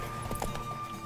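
Horse hooves in the video game The Witcher 3: Wild Hunt during a horse race, a quick run of close clip-clop beats over a steady game background, brief and moderately loud.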